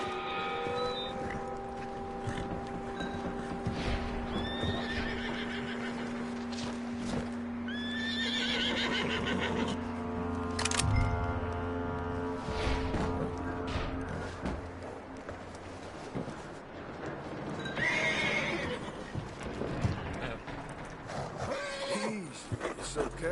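Horses whinny and neigh several times over a busy Red Dead Redemption 2 soundscape, with hoofbeats clopping in the background and occasional low rumbles.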